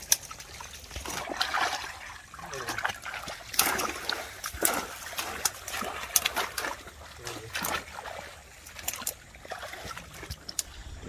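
Fishermen wade and splash through village lake water, driving fish toward a surrounding net; repeated irregular splashes and sloshing bursts, fairly close, with no talk.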